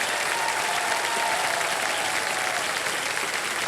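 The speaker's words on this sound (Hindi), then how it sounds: "बहुत बड़ा तालियां बज जाए इनके लिए।" A studio audience on the Kaun Banega Crorepati game show breaks into loud, continuous applause for a contestant taking the hot seat, an even wash of clapping with no pauses.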